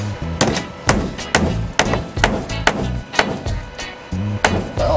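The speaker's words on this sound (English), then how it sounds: "Little carriage bolt things you hammer in there." Repeated sharp hammer blows driving spiked carriage bolts into wood on a vintage RV, about ten strikes in a fairly regular rhythm, close and loud.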